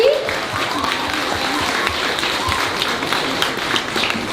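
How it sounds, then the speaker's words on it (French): Applause for the coaches at a sports camp gathering, a close, lively burst of many hands clapping that stays fairly steady, with some voices mixed in underneath. "on voudrait faire une grosse main d'applaudissement à nos coachs"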